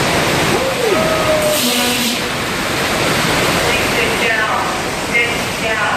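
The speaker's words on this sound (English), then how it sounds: "Here comes the water." Water sprays down onto tram riders during a Universal Studios Hollywood studio tour effect, a loud steady rushing splash that fills the whole stretch, with a guide's voice and rider chatter heard over it.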